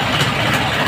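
A fiesta ride's engine idles loud and close with a steady low rumble and slight periodic pulsing, with no voices over it.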